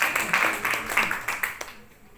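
An audience claps and applauds at a product testimonial gathering, a dense burst of hand claps close by that fades out toward the end, with a voice faintly mixed in.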